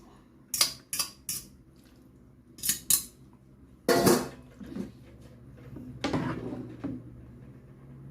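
Noodles go into a pan of carbonara sauce and get tossed and mixed, with sharp clinks of utensil on metal, a few scraping stirs and wet sloshing, moderately close amid quiet pauses.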